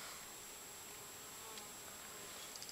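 Wild honey bees buzzing faintly outdoors, a soft continuous insect drone with no talk.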